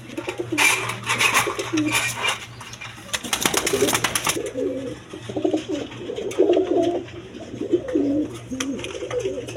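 Golla pigeons cooing close by in repeated low, throaty phrases, mixed with wing flaps and rustling early on and a steady low hum underneath.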